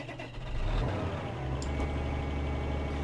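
Tractor seeder engines in Farming Simulator 2013 start and rumble, a low mid-range engine drone that swells after a brief start-up and holds steady with a slight rev near the end.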